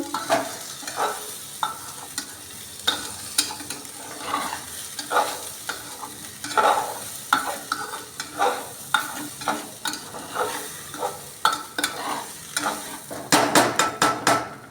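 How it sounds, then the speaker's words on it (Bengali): Rice for basanti pulao is stirred in a frying pan, giving a steady run of rhythmic scraping strokes over a low sizzle, with quick rapid knocks at the end and no talk. "চালটা দিয়ে আবার আমি একবার নাড়াচাড়া করে নেব"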